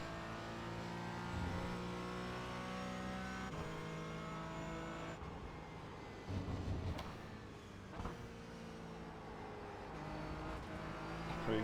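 Race car engine in a racing game held in fourth gear through a corner at Donington circuit, a steady loud harmonic drone with small shifts in pitch and a brief rougher patch midway.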